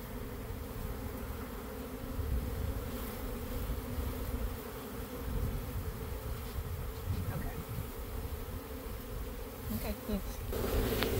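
A steady, dense drone of many honey bees buzzing close by around a hive frame, continuous and fairly loud with slight swells throughout.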